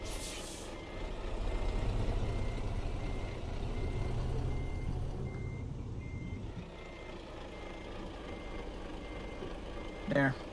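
A truck reversing a trailer into a parking spot in American Truck Simulator, with a steady repeating reversing beep over a low diesel engine rumble and a brief air-brake hiss near the end, fairly quiet.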